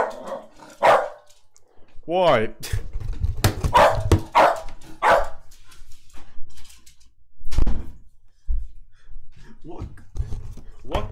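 A dog in a tower-defense style video game barks several times, with punchy thuds mixed in. Someone talks over it.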